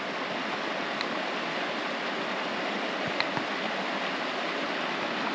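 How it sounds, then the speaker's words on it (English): Small waterfall in the Superstition Mountains, heard as a steady, even rush of falling water with no breaks, moderately loud and continuous throughout, with no voices over it. "Got a little waterfall back there"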